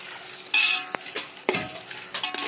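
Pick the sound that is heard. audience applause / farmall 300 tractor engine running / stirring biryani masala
stirring biryani masala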